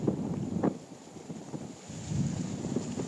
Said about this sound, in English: 60-mile-an-hour winds gusting